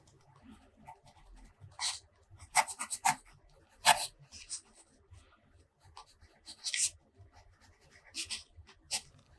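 Quiet scratching strokes of a Kaweco Sport fountain pen with a medium nib moving across paper, irregular short bursts close up with soft pauses between them.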